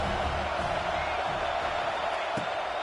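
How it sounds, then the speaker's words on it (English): Stadium crowd noise in the college football video game CFB 26 during a Miami game, a steady loud roar that swells under the play-by-play commentary. "This crowd rising up, sensing that its defense needs some help."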